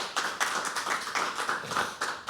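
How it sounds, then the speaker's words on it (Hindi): Brief burst of audience clapping at a live poetry open mic, a dense patter of hands rising and falling in a few short swells close by, no voices over it. "एक बार जोरदार तालियां हो"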